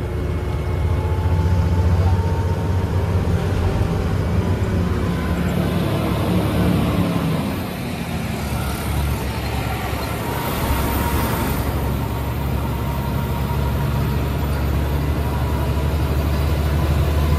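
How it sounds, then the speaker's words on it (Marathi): Vehicles climbing a steep mountain ghat road, a continuous low engine drone with rumbling heavy motors straining uphill, fairly loud and steady throughout with no voices. "गाड्या भल्या भल्या इथे चढतात."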